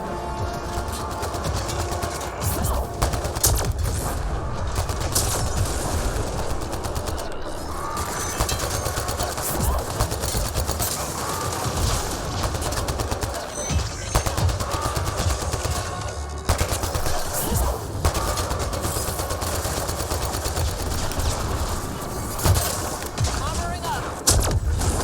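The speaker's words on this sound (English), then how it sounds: "What the heck is shooting me from over here?" Sustained automatic gunfire aimed at the player in Mass Effect Andromeda on Elaaden, dense and loud, with continuous rattling bursts over rumbling background noise across the whole stretch.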